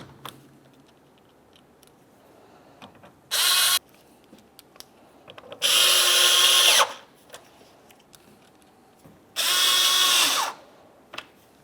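A power drill drives Phillips head screws into a headlight assembly on a 2010-2013 Ford Transit Connect, in three separate whirring bursts of about half a second to a second and a half, with quiet gaps and small clicks between them.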